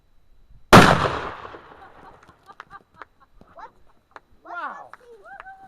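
A rifle or shotgun slug strikes a pumpkin with one loud, sharp impact crack near the start, followed by a short fading burst and scattered small thuds and pattering of debris, with brief voice sounds afterward.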